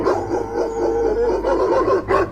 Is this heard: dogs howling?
yes